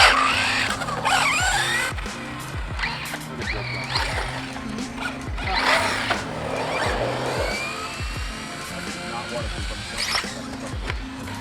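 Small RC cars in a drag race buzz with whining electric motors and bursts of tire squeal, sometimes near, sometimes moving off, while people talk over them.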